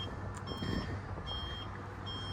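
Steady electronic reversing beeps from a 2025 Vibe EV4 four-passenger electric golf cart, repeating in an even rhythm at moderate volume over a low background hum, with no talking.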